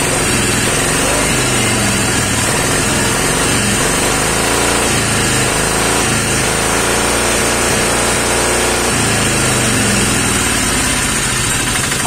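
A diesel engine idles steadily for the whole stretch right after starting, its fuel injection pump just reset to cure racing and hard starting. A loud, continuous chugging rumble runs throughout with no talking.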